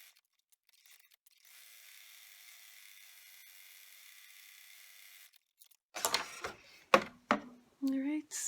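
An embroidery machine running a detail bean stitch around a satin-edged heart coaster in a 4x4 hoop, a faint steady whirring hum for a few seconds, then someone talks.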